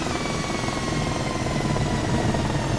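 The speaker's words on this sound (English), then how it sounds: "Well, let's turn off this helicopter." An H135 helicopter in Microsoft Flight Simulator during shutdown gives a steady, dense turbine and rotor roar with a faint high whine gliding slowly downward, loud and continuous throughout.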